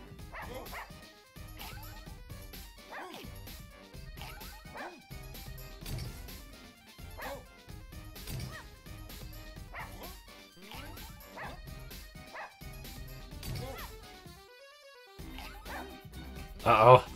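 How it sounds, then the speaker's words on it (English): Cartoonish dogs bark and yip in the Russian Subway Dogs video game, sounding as repeated short yelps over game music and effects with crashes mixed in, while a player talks over much of it. "annoying dog showed up again"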